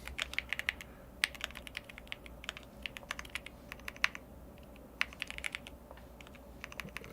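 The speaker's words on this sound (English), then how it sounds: "I'm gonna just type to" Typing on a computer keyboard, with quick irregular bursts of light, close key clicks and short pauses between runs.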